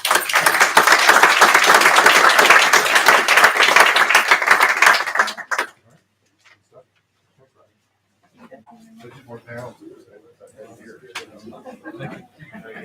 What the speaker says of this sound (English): And so just to ask everyone to give a round of applause.